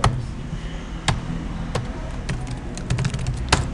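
Password typed on a computer keyboard, a handful of sharp, close key clicks scattered irregularly over a quiet room background.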